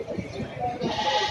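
Sheep at a livestock market with native goats bleat in a wavering call, mixed with crowd chatter and people talking nearby at steady volume.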